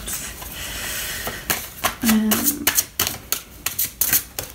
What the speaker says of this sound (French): j'aime mieux mélanger les petites cartes